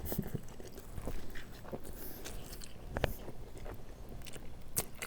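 Biting into a chili shrimp Korean street toast, soft crunchy bites and chewing close up against quiet street background, with no talk.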